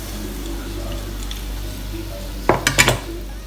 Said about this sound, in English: I'm done frying my chin chin